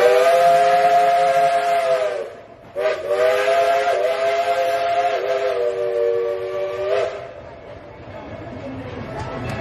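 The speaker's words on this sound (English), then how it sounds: "train's getting ready to come by." A loud, chord-like steam train whistle at Dollywood theme park, blowing in long sustained blasts with brief breaks as the train prepares to pass, fading toward the end over a hissy background.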